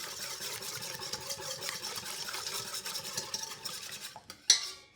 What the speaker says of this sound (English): I'm just going to take a whisk and incorporate these 3 ingredients together